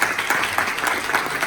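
Audience at a school board candidate forum clapping together, a dense, sustained burst of applause filling the room from many hands at once.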